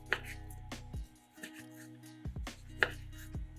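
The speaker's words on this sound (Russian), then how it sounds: "Колбасу нарезаем кружочками." A knife slices sausage into rounds on a cutting board, giving a few sharp, close chops spaced irregularly with quiet pauses between them.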